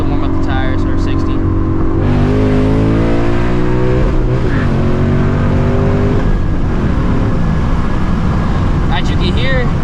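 A Ford Mustang GT S650 tuned to run on E85 accelerates hard, its engine climbing through gears with rising, loud exhaust roars close by, while people talk over it.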